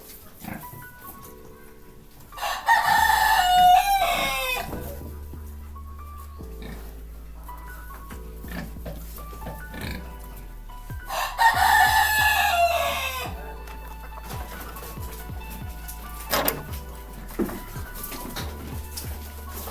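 Local chickens crowing at a poultry farm in Assam, two loud drawn-out rooster calls a few seconds apart, with softer clucks, scattered animal noises and a low background hum between them.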